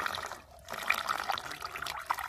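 Water is poured into a fully welded container, making a continuous splashing and gurgling fill that briefly dips before resuming at steady, moderate loudness.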